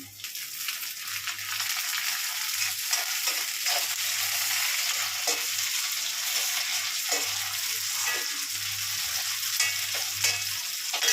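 Curry leaves fry in a pan of hot oil for prawn thokku, giving a loud, steady sizzle with bursts of crackling and spattering, up close and with no voices.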